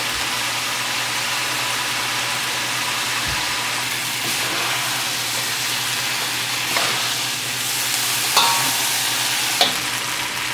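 Food stir-fries in a hot pan with a steady, dense sizzle throughout, broken by a few sharp utensil clacks against the pan near the end.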